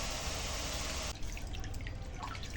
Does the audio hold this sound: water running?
yes